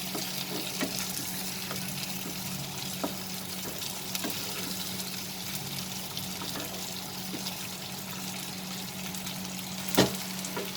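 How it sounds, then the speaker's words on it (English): Chicken pieces with dried coconut slices frying in a pan, a steady close sizzle with small crackles and pops throughout and one sharper spatter near the end, no voices. "we will cook this till our chicken is fried properly"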